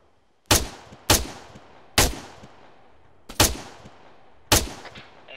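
Single loud gunshots in the military shooter game ARMA 3, five sharp cracks fired at uneven intervals, each trailing off in a short echo, with no voices over them.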